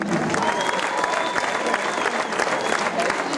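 An audience claps steadily in dense continuous applause at the podium ceremony of a youth football cup tournament, the Vildbjerg Cup, loud and sustained with crowd murmur mixed in.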